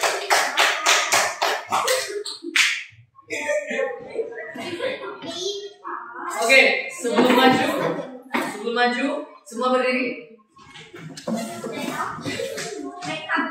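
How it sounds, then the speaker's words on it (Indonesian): Sixth-grade schoolchildren in an elementary classroom give a short, quick burst of clapping for a group, and then an adult's voice talks on for the rest of the moment. "tepuk tangan dulu untuk kelompok Sinar Gunung Dusun 1"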